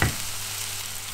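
Vegetables and mung bean sprouts fry in a pan for a vegan Indonesian tempeh wrap, a steady close sizzle after a brief stirring clatter at the start, with no talking.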